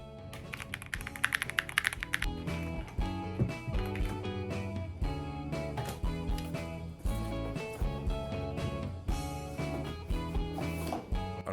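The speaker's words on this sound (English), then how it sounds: "this thing looks and sounds amazing" Keys on a Yunzii B75 Pro mechanical keyboard clack in quick, uneven bursts of typing, close and crisp, with music playing underneath throughout.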